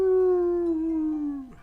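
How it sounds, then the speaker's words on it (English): A dog in the video game Hero-U lets out a single long, mournful howling whine that holds steady, then bends downward and trails off at the end. "And one sad and noisy dog whine."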